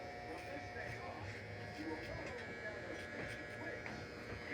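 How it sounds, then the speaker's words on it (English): Andis fading clipper buzzes steadily while trimming and blending a boy's sideburns during a haircut, a constant close electric hum running throughout, faint under a person talking. "I'm going to use the Andis. Again, this fading clipper here."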